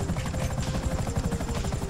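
Helicopter in the video game GTA V, a close, rapid rhythmic rotor chop with a low engine drone, pulsing steadily over a brief moment without speech.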